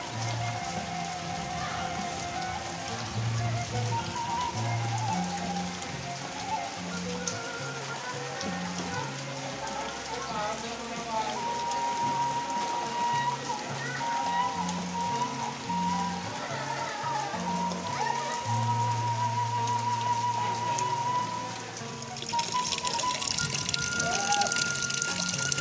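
Steady rain falls at a boarding school for Islamic students, a continuous wash of drops hitting surfaces that stays fairly even throughout, brightening toward the end, with a low hum beneath and no talk.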